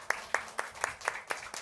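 A church congregation at Gwangju New Song Church applauds in welcome during an online worship service: about seven sharp claps fall in an even, quick rhythm, close and fairly faint, with no talk over them.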